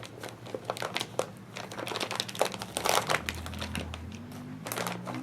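Close crinkling and rustling of a plastic bag with several sharp scissor snips clipping it off, busy and irregular, with no voices.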